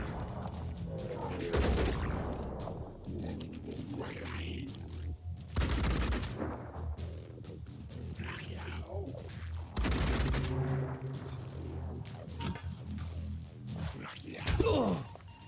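Gunfire returned in the video game Terror From the Void comes as four separate loud bursts of rapid shots spread several seconds apart, with softer thuds and game sounds in between.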